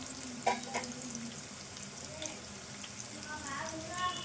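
Green chilies slit and frying in a pan with turmeric for an eggplant chicken curry, giving a steady soft sizzle with a few clinks of stirring and faint kitchen noise.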